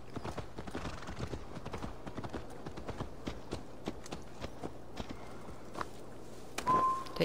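Steady clip-clop of horse hooves walking at an even pace in the video game Assassin's Creed Valhalla, with a faint neigh toward the end.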